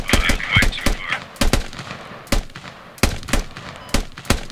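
Bursts of gunfire in the video game Squad, several rifles firing together in volley, with sharp cracks spread across the moment in uneven clusters, some shots tight together and others spaced apart, moderately loud.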